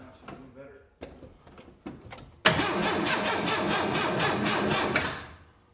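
A 1923 Ford Model T engine, long unused, coughs and kicks through a few sputtering attempts before catching and running at a steady, loud, rattling idle, then fading toward the end.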